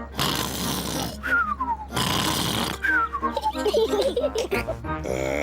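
A cartoon voice imitates loud snoring, mimicking a pig-like uncle dozing after eating too much lunch; wavering drawn-out grunts and nasal snores come in bursts over background music, with brief spoken moments mixed in.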